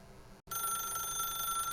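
A telephone rings in the video game The Stanley Parable: a bright electronic ring with a brief gap near the start, then one continuous, fairly faint trill.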